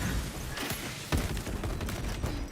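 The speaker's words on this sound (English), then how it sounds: "Let the servo gun do its job." A servo gun firing in Space Marine 2, bursts of rapid gunshots cutting through a busy battle din, with sharp loud cracks near the start and middle and steady combat noise between them.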